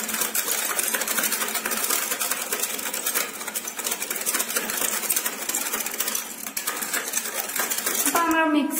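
A spoon stirs cocoa powder and sugar together in a cup, making steady close-up scraping and clinking throughout without pause.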